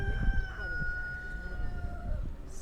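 Chickens at a Turkish poultry and fowl market in Isparta, with a rooster-like crowing call held over a low rumble of market noise and background chatter.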